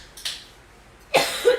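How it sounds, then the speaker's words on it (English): A single cough bursts out near the microphone after a short quiet stretch, preceded by a faint breathy sound, with no talking during the clip. "I'm coughing."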